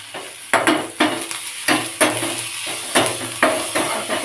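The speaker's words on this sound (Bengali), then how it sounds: "খুব ভালো করে পেঁয়াজটাকে ভেজে নেব" Onions sizzle in a pan with a little turmeric and salt for an egg dish, while a spoon scrapes and stirs them in regular strokes over a steady, close frying hiss.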